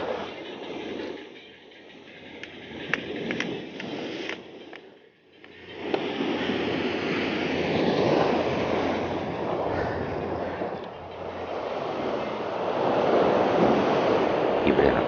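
Swell waves at the coast of Oeseom island near Mijo in Namhae wash in as a broad roar, easing briefly midway and then swelling back up to a heavy continuous surge, with wind buffeting the microphone.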